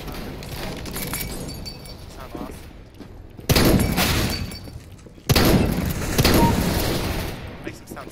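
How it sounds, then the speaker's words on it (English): Shotgun blasts from CS:GO on the Office map in team deathmatch: two loud, sharp booms about two seconds apart, each with a long ringing tail, rising over a steady bed of game noise. "These shotguns sound amazing."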